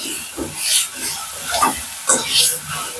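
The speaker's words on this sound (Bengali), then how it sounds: "নেড়ে নিই।" Spices with Kashmiri chili powder are stirred in a hot pan, giving a few short scraping, sizzling strokes in quick succession, close and fairly loud.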